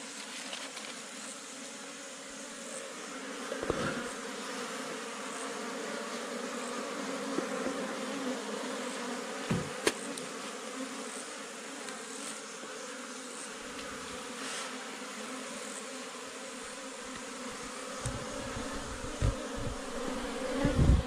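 Wild bees buzz continuously in a forest during a traditional hill-tribe honey hunt, a dense, steady drone with occasional soft knocks and rustles.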